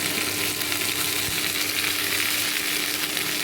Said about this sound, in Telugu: ఆనియన్స్ ఫ్రై అవుతున్నాయి కదా, బాగా ఫ్రై అవ్వాలి.